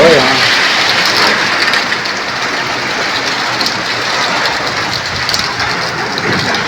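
Heavy rain pours down steadily in a village, a dense, loud, continuous roar of drops hitting surfaces, with a low rumble that may be thunder and faint voices in the background.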